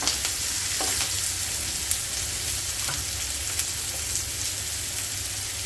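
Onions sizzle steadily in a hot pan with a pinch of asafoetida, a continuous close frying hiss broken by a few light clinks of a utensil.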